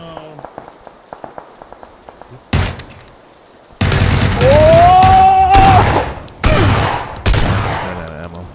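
Bursts of full-auto gunfire in a PUBG squad match during a three-team fight, loud clusters of shots with brief gaps, mixed with other game sounds and a player talking excitedly over it.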